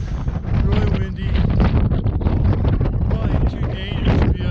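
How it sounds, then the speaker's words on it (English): Strong, cold wind roars without a break across the microphone near the summit of Mt. McLoughlin, buffeting loudly and close with gusty rumbles throughout. "really windy"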